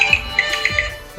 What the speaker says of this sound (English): Of course, my phone rings.